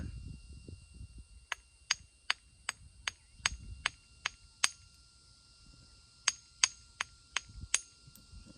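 Sharp stone-on-stone clicks from flint knapping, as the base of an agatized coral Marion-style spearpoint is beveled, come in an irregular series of about twenty close, crisp taps over quiet rustling.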